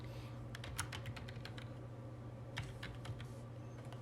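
Keystrokes on a computer keyboard while a pre-shared key is entered, heard as short bursts of clicks in two clusters over a steady low hum, fairly close and quiet.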